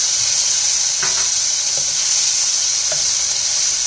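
Minced garlic is dropped into a hot wok for Indian-style chilli chicken and gives off a loud, continuous hissing sizzle with a few faint knocks, up close, with no voices.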